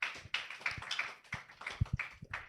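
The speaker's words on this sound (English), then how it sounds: "Let's clap for him once again." An audience claps for a presenter at a capstone personal presentation event, a faint, sparse patter of hands with uneven rhythm, fairly distant and thin, with no talk over it.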